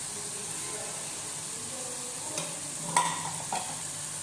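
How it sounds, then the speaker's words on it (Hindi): Chickpeas, chopped tomatoes and green chillies are stirred in a pan while making chana pulao. A faint, low frying hiss is accented by a few soft scrapes and clinks near the end. "अब हम इसको अच्छे से मिक्स करेंगे।"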